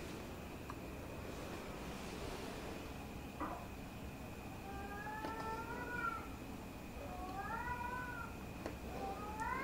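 Several cats meow at a distance in a series of rising and falling calls that bunch toward the end, set against a steady background hiss with no talking.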